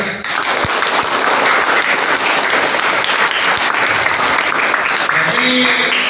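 A crowd at a scouting (Pramuka) session at a junior high school bursts into loud, dense applause that continues without pause, with voices mixed in.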